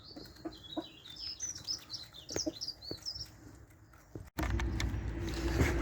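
Chickens cluck and chirp softly around a coop, with repeated short calls and pecking taps, followed by a sudden louder rumbling noise near the end.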